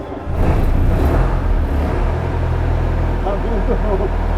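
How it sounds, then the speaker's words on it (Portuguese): The Popemobile that carried Pope John Paul II in Brazil idles with a low, steady engine rumble close by, while people talk over it. "O motor tá bom, viu?"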